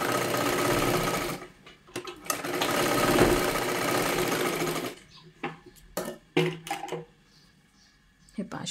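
A sewing machine double-stitches a size 36 katori blouse with one long whirring run, followed by several short bursts of stitching, with a voice speaking between them.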